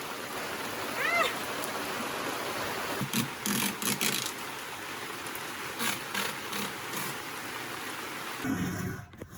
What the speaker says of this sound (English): we bought bigger tarps so that we can cover the house from the rain and we can work while it's raining